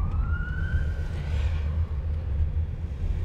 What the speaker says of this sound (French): les ambulances